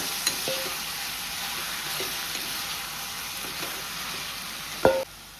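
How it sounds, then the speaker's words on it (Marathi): Marinated prawns fry in a pan for Goan-style prawn chilli. A steady, even sizzle continues with faint stirring scrapes, ending in a sharper clatter and scrape of the spoon against the pan. "आता तितून हांव घालता मॅरिनेट केली सुंगटां. ही बी बरी तळसून घेता."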